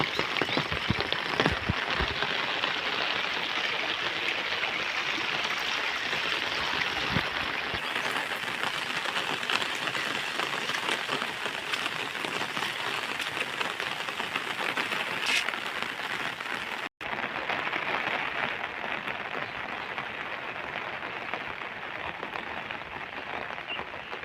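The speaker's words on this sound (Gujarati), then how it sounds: "ફૂલમાં ફૂલ વરસાદ અત્યારે હાલમાં ચાલુ છે" Heavy downpour over a village in Methala, a dense, unbroken hiss of rain pounding surfaces, loud and steady throughout, with a sudden brief dropout before the same roar resumes.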